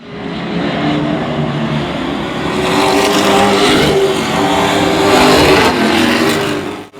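Race cars battle for the lead at Oyster Bed Speedway, engines roaring loud and continuous as they pass, rising slightly midway and then cutting off abruptly at the end.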